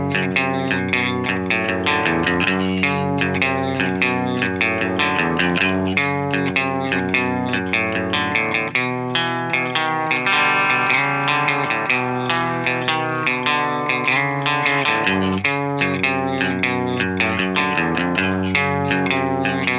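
Telecaster electric guitar on its bridge pickup playing a tune, a loud, steady riff with chorus and echo effects running the whole time, with no voices.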